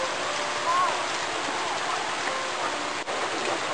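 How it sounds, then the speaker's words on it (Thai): Heavy rain pours in strong wind, a dense, even hiss that fills the whole stretch without a break. "ตอนนี้นะครับฝนก็ลมแรงมากเลยนะครับ"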